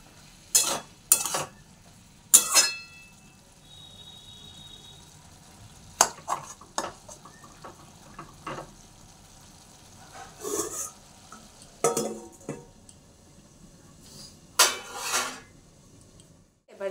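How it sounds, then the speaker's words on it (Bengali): Bottle gourd curry being stirred with salt in a pot, a spoon scraping and clinking in several short, loud bursts separated by quiet pauses, with a soft sizzle underneath. "লবণটা দিয়ে নাড়া দিয়ে আরেকবার ঢাকা দিয়ে দেবো"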